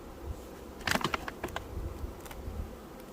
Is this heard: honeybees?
yes